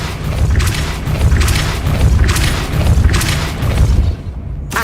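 Depulso spell cast in Hogwarts Legacy: a run of heavy booming thumps in steady succession, loud and close, with a whooshing burst on each cast and no talking.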